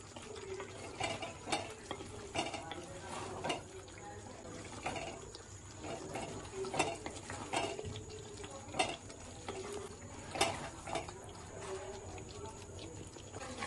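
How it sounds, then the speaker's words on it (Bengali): Mutton curry with chopped tomato being sautéed in a pan, giving a soft sizzle with repeated scraping and stirring knocks at an irregular rhythm, moderately close. "এবার ভালো করে কষিয়ে নেব। টমেটো কুচিটা দিয়ে দিচ্ছি।"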